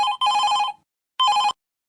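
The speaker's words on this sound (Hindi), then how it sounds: "ए अम्मा फोन उठाइला और स्पीकर पे करा तो" A telephone rings close and loud in two bursts of electronic bell tone, separated by a short silence, with no one speaking.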